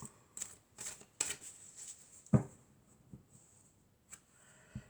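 A deck of cards is cut and shuffled close by, with soft riffling bursts, light taps and one sharper slap, quiet against near silence.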